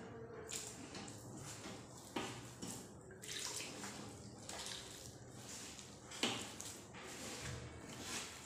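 Water is poured in small amounts into mashed potato dough and worked by hand, giving intermittent soft splashing and squishing sounds, close and faint.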